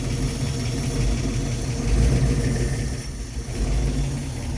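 Car engine idling after a cold start on a freshly welded and mounted new exhaust, a steady loud low burble with slight rises and dips in the revs, close by, with no one talking.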